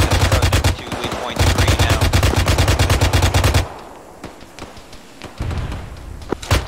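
A mounted machine gun in the military game Arma 3 hammers out long loud bursts at close range, pausing for a few scattered distant shots before resuming.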